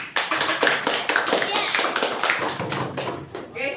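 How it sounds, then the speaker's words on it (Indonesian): A classroom audience claps for a student about to present, with brisk, uneven applause close by that fades after a few seconds, while a voice talks over it. "sebelumnya tepuk tangan buat Dimas dulu."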